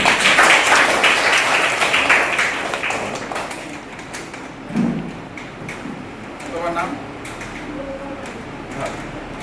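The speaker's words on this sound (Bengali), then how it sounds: "একটা হাততালি সন্দীপের জন্য" Applause for a child named Sandip at a school gift-giving event, a burst of many hands clapping that fades over a few seconds as voices talk over it.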